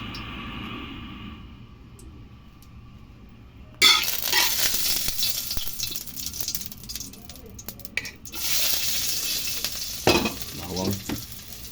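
Meat sautéed in a pan for laing goes quiet at first, then bursts into a loud sizzle as it hits the hot oil, with stirring scrapes and crackles continuing up close.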